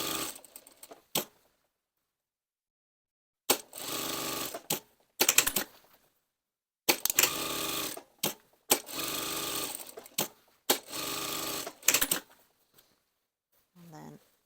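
Sewing machine stitching a pocket bag for an angled waistcoat pocket, several loud bursts of rapid mechanical whirring, each a second or two long, separated by short silent pauses.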